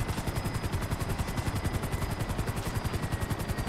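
Rhythmic rotor thumping of a helicopter flying in the video game GTA 5, a fast, steady pulse with a constant engine whine, close and loud.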